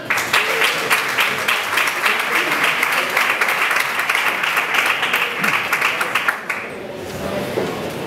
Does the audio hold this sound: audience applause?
yes